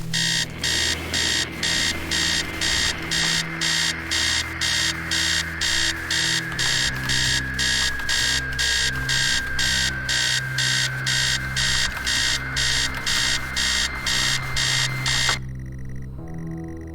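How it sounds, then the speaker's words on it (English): A video game alarm clock in Stories Untold rings loudly and without pause, a fast pulsing electronic beep that repeats evenly for about fifteen seconds and then cuts off abruptly. "Okay, how do I stop the alarm?"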